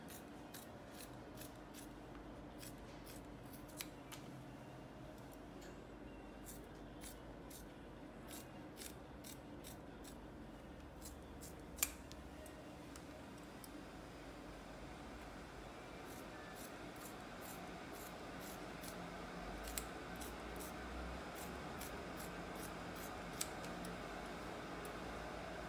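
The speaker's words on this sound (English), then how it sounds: "So I tend to go around and cut all those off." Scissors trim the sharp hardened edges of an Orficast thermoplastic splint, a long series of quiet crisp snips in loose rhythmic runs with pauses, over a steady low room hum.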